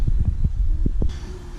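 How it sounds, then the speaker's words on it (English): A hand vacuum pump squeezed repeatedly, feeding a small fluid tank during a Piaggio Typhoon 50 scooter rebuild, giving a series of soft, close, low thumping strokes at an uneven rhythm. "This is the vacuum pump setup. So just on there, goes to a little tank, then you just pump that and away you go."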